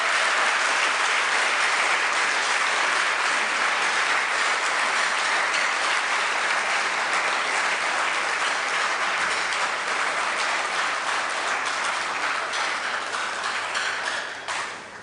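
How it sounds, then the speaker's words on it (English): Sustained applause from a lecture audience, a dense, steady wash of many hands clapping that holds strong throughout before easing slightly at the very end. "Ladies and gentlemen, let us give our speaker another round of applause."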